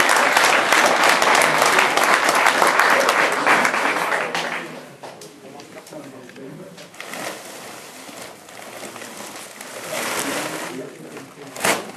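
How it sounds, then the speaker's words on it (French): An outdoor audience at a hunting-dog trial prize-giving applauds loudly for several seconds, then the clapping thins and trails off, returning in smaller bursts under a speaking voice. "Nous pouvons les applaudir."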